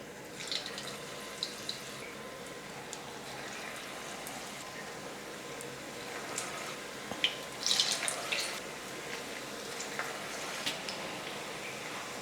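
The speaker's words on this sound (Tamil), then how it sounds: "கையில் லைட்டாக தண்ணி தொட்டுக்கிட்டு கொஞ்சம் கொஞ்சமாக மாவு எடுத்து நான் எண்ணெயில் போட்டுக்கிறேன்" Small balls of rava bonda batter frying in hot oil, giving a steady low sizzling hiss with scattered soft crackles and pops that grow a little busier toward the end; no voices.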